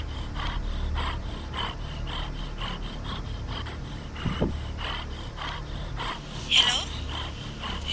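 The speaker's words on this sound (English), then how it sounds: "There's no voice except a really loud breathing comes from" An unknown caller breathes heavily down a phone line: a loud, rhythmic series of harsh breaths, each one close and raspy, repeating steadily about once a second.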